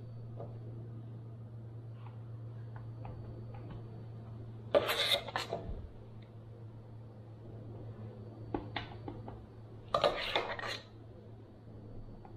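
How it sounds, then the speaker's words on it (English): Strawberry cream cheese mixture scooped into a small mold: two short bursts of scraping and tapping against the dish, over a steady low hum, with a few faint clicks between. "I'm gonna scoop this out and put this into the mold and fill up the little mold."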